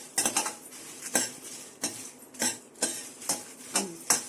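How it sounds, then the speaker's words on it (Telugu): Red chillies stirred in a kadai, a spoon or spatula scraping and clinking against the metal pan in a steady series of sharp strokes, about one every half second, close and fairly loud with no voices. "మిరపకాయలు వేయించేయండి."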